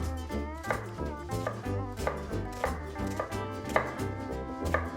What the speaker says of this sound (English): We cut the onion through the root end in half. And we're going to slice it.